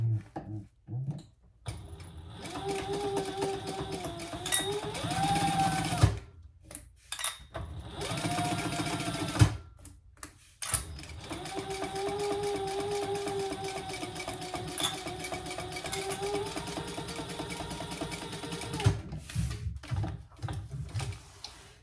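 Sewing machine top stitching a water-resistant canvas bag, running in several bursts of rapid mechanical whirring separated by short pauses with soft clicks and handling, close by and with no talk.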